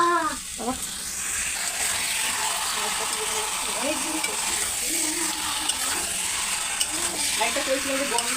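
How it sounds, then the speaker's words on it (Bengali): Chicken pieces stirred into a thick spice paste in a hot pan for a Bengali chicken dish, a steady sizzle and frying hiss with scraping stirs throughout, loud and close, a voice briefly heard at the start and end. "এইভাবে ভালো করে নেড়ে নিতে হবে মশলার সাথে, চিকেন যাতে মিশে যায়"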